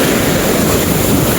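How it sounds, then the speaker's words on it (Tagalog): Steady wash of blue sea waves near Maasin City, not very strong, with a constant roar and wind buffeting the microphone, no voices. "Hindi ganun kalakas ang alon."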